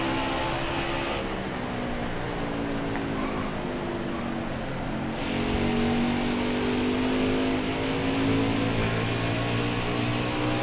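A NASCAR race car engine drones at full throttle around Richmond in NASCAR Heat 4. The steady, loud engine note climbs gradually in pitch and swells partway through as speed builds, with no voices.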